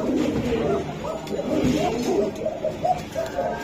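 Pigeons kept for sale at a pigeon seller's, cooing in repeated soft, throaty calls that overlap one another at close range.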